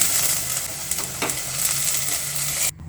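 Okra frying in a pan for a green chilli gojju, a steady broadband sizzle with faint stirring, close and continuous, ending abruptly.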